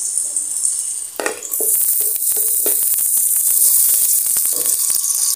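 Onions dropped into a hot frying pan for aloo andhay bhujia, a home-cooked potato and egg dish, burst into a loud, steady sizzle after a few stirring clatters and continue crackling throughout.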